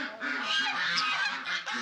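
Brahma chickens call in a series of short, honking clucks, about half a dozen in quick succession, over a noisy background of other birds.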